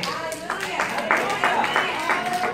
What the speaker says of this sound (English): Man, like four claps over here, three over here.